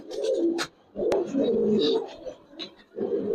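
Giribaz and coloring pigeons in a loft give off repeated soft, throaty coos in close bursts with short pauses between, with no talking.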